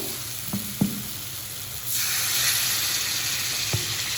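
Fish sizzles softly in a frying pan with a few utensil clinks. Then water is poured in and the pan bursts into a loud, sustained hiss that carries through to the end.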